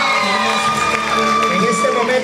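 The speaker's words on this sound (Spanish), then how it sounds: "Que se escuchen los aplausos." A crowd cheers and calls out at a quinceañera celebration with music playing underneath, a lively, dense mix of voices and shouts rather than distinct clapping.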